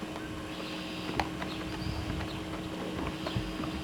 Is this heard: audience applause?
no